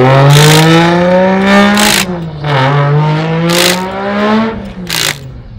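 A drift car's engine revs hard on freshly changed tires at a track before heading out, loud and close. Repeated rising and falling revs climb and dip in pitch, broken by sharp bursts.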